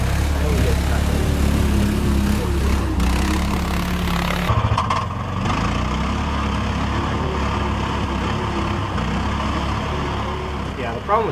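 A 6x6 scrambler skid-steer vehicle's engine runs steadily in snow, a loud continuous drone with a shift in tone partway through, close by.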